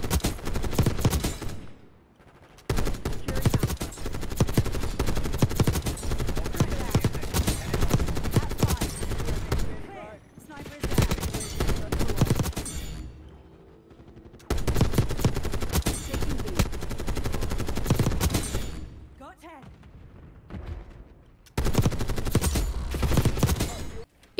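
A light machine gun with a 200-round belt fires in a video game in long sustained bursts, loud and close, broken by brief pauses between strings of rapid shots.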